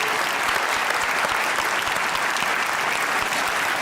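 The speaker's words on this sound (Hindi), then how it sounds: "ताली होनी चाहिए सबके लिए" An interview audience applauds steadily, a close, full burst of many hands clapping without pause.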